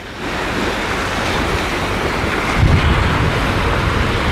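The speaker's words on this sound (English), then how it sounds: "The wind is really, really kicked up." Strong wind roars steadily over Lake Huron beside a freighter, a loud, continuous rushing blast buffeting the microphone with surf-like wash underneath and no voices.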